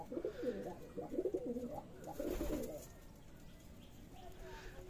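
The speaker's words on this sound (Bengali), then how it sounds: "এখানে রেসিং পিজনের বেবি একটা।" Racing pigeons in a pigeon house on a Bangladesh pigeon farm give soft, repeated throaty coos in overlapping bursts close by, with a faint hint of a voice in the background.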